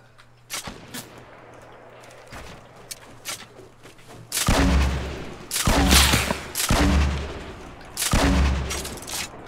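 Sniper gunfire in a duo shooter video game, several loud, booming shots and bursts, sparse at first and then heavy and rolling, with no talking over them.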